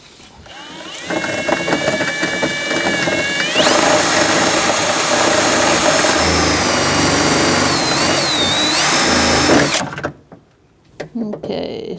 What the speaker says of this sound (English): We're going to drill off the heads of the rivets.